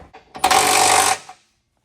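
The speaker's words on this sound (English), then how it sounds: "so I'm just going to use my 3/8 gun so I don't overdo it." A 3/8 impact gun rattles in a single loud burst of about a second while wheel or brake work goes on during a Buick rebuild, with a brief click before and after.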